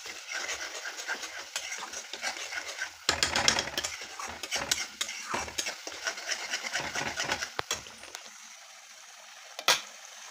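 Spices being stirred and sautéed together in a pan, with irregular scraping and clattering strokes that come in uneven bursts, nearby and moderately loud, plus a few sharp knocks against the pan.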